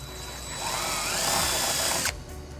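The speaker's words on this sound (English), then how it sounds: "we're going to drill our first hole using a 3/16 drill bit." A steady, high-pitched power drill whine as a 3/16 bit drills into a 2020 Toyota Highlander bumper, running about two seconds, rising slightly in strain, then cutting off abruptly.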